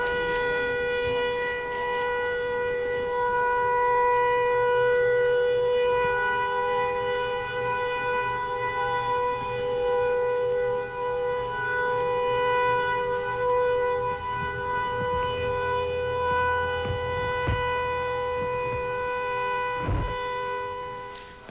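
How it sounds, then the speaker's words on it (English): An air raid siren sounds in Saudi Arabia during the Gulf War, captured from a TV news broadcast: a steady, droning, multi-tone wail held for over twenty seconds, with faint low rumbles and clicks beneath. "There was an air raid siren that went off in Saudi Arabia"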